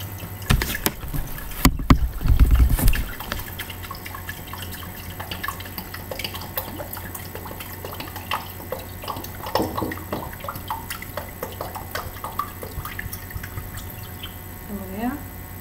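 One litre of water pours into honey in a kitchen container while making aloe juice, with splashing and trickling sounds under a woman's spoken instructions.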